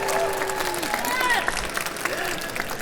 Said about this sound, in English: Okay, after 3, 1, 2, 3, start the applause